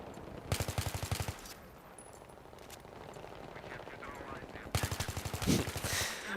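Rapid bursts of automatic fire from an M16A3 rifle in the video game Battlefield 3, two clear strings of fast evenly spaced shots at the start and end with quieter in-game ambience and scattered sounds between them.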